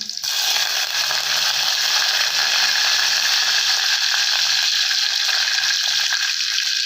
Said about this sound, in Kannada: ಸಾಸಿವೆ ಚಟ ಅನ್ನತ್ತದ